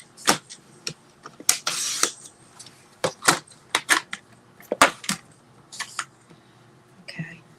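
Card stock is handled and trimmed on a sliding paper trimmer for a Stampin' Up pop-and-twist card: a series of sharp clicks and taps, with one brief, louder scraping slide near the start, all quite close.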